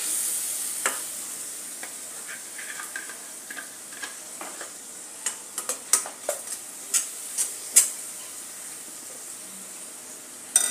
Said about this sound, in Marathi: चांगला तेल सुटेपर्यंत आपण भाजून घेणार आहोत